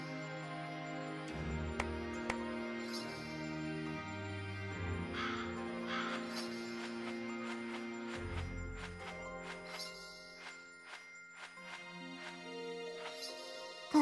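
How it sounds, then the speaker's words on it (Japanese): Kasugai crow from the Demon Slayer Hinokami Chronicles video game cawing in a run of separate sharp calls over quiet game music and chimes. "カスガイガラスは主に連絡用のカラスでございます。"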